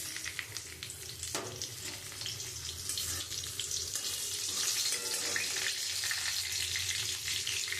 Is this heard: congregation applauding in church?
no